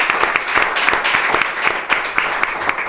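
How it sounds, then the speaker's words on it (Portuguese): An audience gives a loud, full round of applause for Francisco. Dense clapping fills the room, with a few sharper individual claps standing out, and keeps going steadily to the end. "Uma enorme salva de palmas, pessoal."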